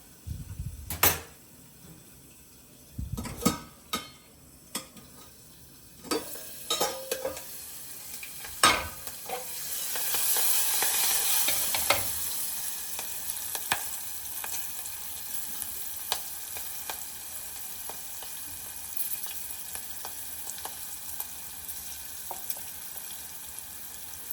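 Garlic, curry leaves and green chilies fry in hot oil, with sharp bursts of sizzling and spatter at the start, a loud hissing surge midway, then a steady crackle under occasional stirring and pan knocks.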